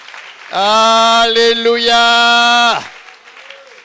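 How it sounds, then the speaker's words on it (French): A church congregation at a resurrection sermon bursts into loud applause and cheering for about two seconds, with a singer-like shout of praise ringing over the clapping before it drops back to quiet. "Acclame très fort Jésus."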